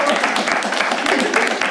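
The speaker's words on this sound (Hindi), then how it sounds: "आप लोग ताली बजा सकते हैं।" A stand-up comedy audience breaks into applause, a continuous dense patter of many hands clapping at close range, fairly loud and unbroken.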